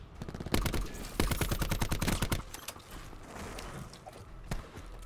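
Pistol fire in Black Ops 4 cracks out in rapid bursts of sharp shots, close and loud, with clustered volleys early on and a lone shot near the end.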